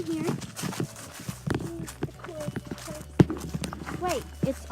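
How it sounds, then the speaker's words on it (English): Hooves clop and shuffle on a stall floor as a horse moves around in a farm barn, a series of uneven thuds under people talking nearby. "So we're gonna see Pepper, the horse"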